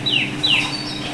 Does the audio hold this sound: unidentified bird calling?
yes